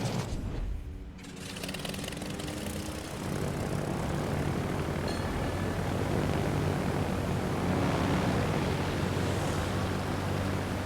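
A flight of propeller-driven torpedo bombers drones steadily in World of Warships, a loud, continuous engine roar that swells slightly over time with no talk.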